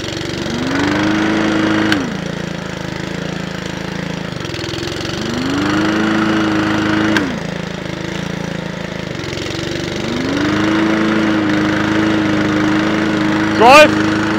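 A lawn mower engine idles steadily nearby. A repeating rising-and-falling whine recurs every few seconds as the rotor clutch is engaged and released, and speech is heard over it.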